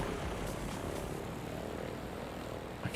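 A propeller airplane engine inside the city-building game Cities Skylines, a steady broadband drone holding at constant loudness with no speech over it.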